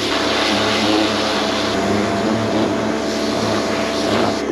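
A high pressure cleaner runs continuously while washing a motorbike, giving a loud, close, steady hiss and whine of pump and spray with no breaks.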